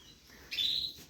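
Canaries singing in a home aviary, one short bright chirp bursting out for about half a second over a quiet room background.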